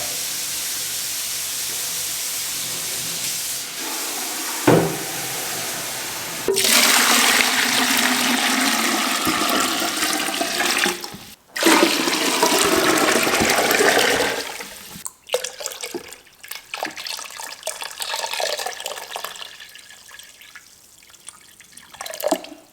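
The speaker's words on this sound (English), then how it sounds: "Now I'm going to fill the Braumeister with 12 liters of water." Hot tap water gushes loudly and steadily into a Speidel Braumeister 10 L brewing machine, filling it with 12 liters; the stream cuts off briefly, resumes, then dwindles to sporadic splashes and drips, with no speech.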